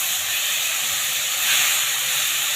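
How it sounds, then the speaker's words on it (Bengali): Taro greens and hilsa fish heads and tails stirred in a hot pan, giving a steady, close, bright sizzling hiss that swells slightly midway. "এখন আমরা এই যে কচু শাকগুলো দিয়ে দিলাম। ভালো করে এখন আমরা নাড়াচাড়া দিব।"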